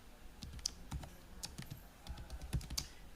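Light, quiet typing of a username on a computer keyboard. Irregular key clicks come in short bursts, close and soft, with no talk.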